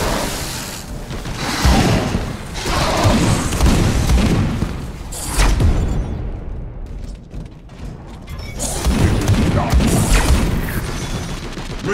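A missile blast in Space Hulk: Deathwing, heavy booming explosions with crashing and mechanical clatter, loud and dense across the span, easing briefly midway before swelling again.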